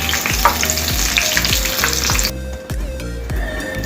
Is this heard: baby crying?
no